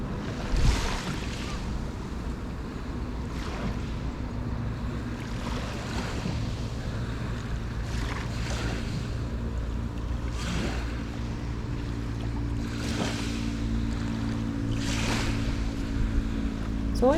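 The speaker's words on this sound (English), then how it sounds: "Just listen to the waves crash for a little while." Ocean waves on a beach in Naha, Japan, roll in and wash up steadily under constant wind rumble, with soft recurring surges of surf and no voices.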